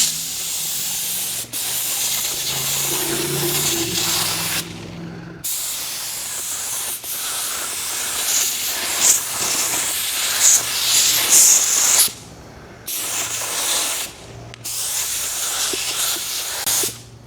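Spray gun painting a car with a small compressor, loud sustained hissing spray bursts that stop briefly between passes, with the compressor humming underneath and no talking.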